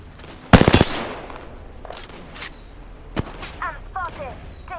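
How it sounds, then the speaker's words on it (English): Gunfire in the battle royale game Apex Legends: a loud burst of rapid automatic shots, then scattered single cracks and distant bursts over faint game ambience. "I'm spotted. Taking fire."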